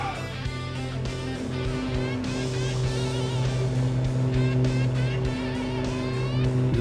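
Twin piston engines of an A2A Aerostar 600 in a flight simulator game drone steadily in flight with a constant, even roar and shifting tonal hum, no voices over it.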